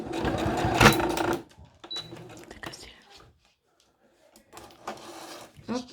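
A sewing machine rattles in a fast, close burst while stitching a washable fabric mask, then stops; quieter handling and a voice follow, with another short machine run near the end.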